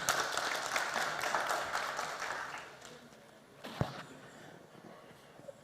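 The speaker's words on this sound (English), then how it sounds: "A huge round of applause, everyone." Applause from an audience at a forest service awards ceremony in India, fairly faint and distant, strongest at first and then thinning into scattered claps with a single sharp knock partway through.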